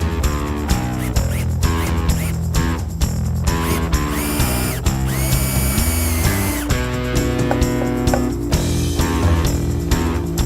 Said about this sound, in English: I'm gonna drill new ones.